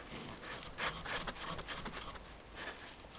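The thread of a tie rod end lock nut on a 2011 Renault Kangoo is scrubbed clean with continuous, close, rough brushing and scraping strokes of uneven rhythm at a fairly quiet level.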